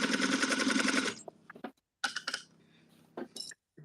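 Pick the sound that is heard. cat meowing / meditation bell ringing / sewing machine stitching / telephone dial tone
sewing machine stitching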